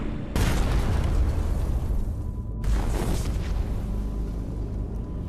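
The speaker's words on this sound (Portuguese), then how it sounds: "Após uma longa espera, eles ouvem uma explosão." A torpedo explodes against a troop ship off Malta in May 1941, heard from inside a submarine: a sudden deep blast with long rumbling decay, then a second boom about two seconds later.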